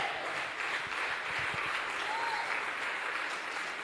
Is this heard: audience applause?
yes